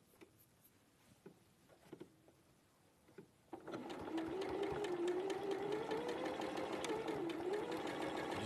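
A sewing machine stitching fabric along a marked line, starting after a few soft handling clicks and then running in a steady, continuous whir close by with no talk.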